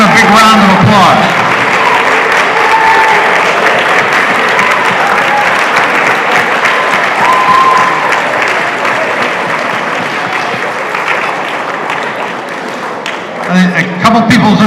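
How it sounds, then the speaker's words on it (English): A large audience at a 2022 business school commencement honors celebration gives a long, loud, steady round of applause for award recipients' parents, with a voice speaking briefly at the start and end. "please give them a big round of applause"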